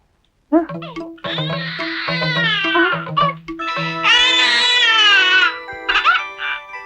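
A tape-recorder playback of a man mimicking a crying baby. After a brief silence, loud wavering wails come through in several drawn-out bursts, rising to a high shrill peak before breaking off near the end.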